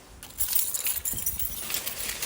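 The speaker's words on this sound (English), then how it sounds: "Keys." Keys jangling close by as someone gathers belongings before leaving home: light metallic clinks and rattles in quick, irregular bursts, fairly faint, with no talking.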